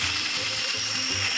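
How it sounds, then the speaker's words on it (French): A blender grinds hazelnuts into a fine but textured meal for homemade chocolate spread. The motor whirs continuously with a rhythmic churning pulse, close and steady, with no voices. "il nous reste à mixer nos noisettes"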